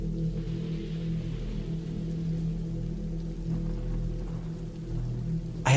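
Steady rain falls around a cabin in the woods, a constant low hiss and patter with no talk.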